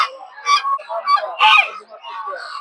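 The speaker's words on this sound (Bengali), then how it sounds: "কিছু রাজা হাঁস দেখতে পাচ্ছেন," Raja ducks (Muscovy-type large ducks) honking at a busy poultry market in Narsingdi, several loud nasal honks in bursts close by with market chatter underneath.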